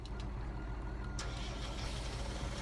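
In the Farming Simulator 19 game, a tractor reverses with a faint rhythmic warning beep, heard over a steady low engine hum.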